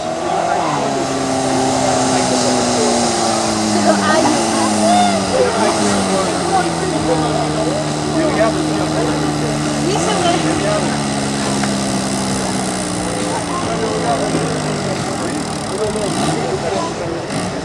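A garden tractor in a Gardens 500/600 tractor-pulling class at Lubersac drags a trailer, its engine droning loud and close with revs rising and falling in repeated surges, and a voice talks over it.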